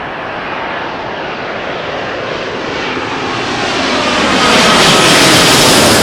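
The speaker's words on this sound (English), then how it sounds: "British Airways, second A350 of the day, all the way from Austin, Texas." A British Airways Airbus A350 jet at London Heathrow gives a loud, steady broadband engine roar that builds and brightens over the last seconds as it draws nearer, with no voices.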